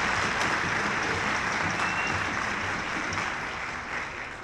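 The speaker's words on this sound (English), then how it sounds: "Can you please give them a round of applause?" Audience applause at a youth orchestra guest artist concert, a dense, steady wash of clapping that fills the hall for several seconds and tapers slightly at the end.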